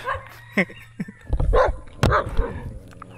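Dog barking on a lakeside fishing outing: a few sharp, close barks and yips in short bursts, with some whimpering noises between them.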